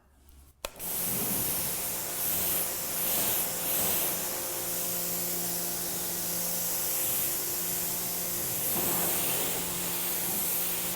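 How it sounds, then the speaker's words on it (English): A water spray rinses a dirty car in one loud, continuous hissing stream that starts abruptly and varies slightly as it sweeps over the body panels, heard close and alone. "So I'm going to begin by rinsing now."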